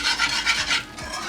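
Whisking a thickener into Albanian bean soup, grosh: a steady rhythmic scraping of a whisk against the pot, several close strokes in quick succession with no talking.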